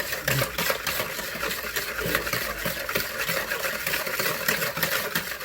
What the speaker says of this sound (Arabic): افضل اقلب كده السكر لحد ما يدوب